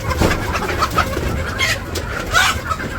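Village chickens cluck and call in short bursts close by, with some softer cooing bird sounds mixed in against a steady outdoor background.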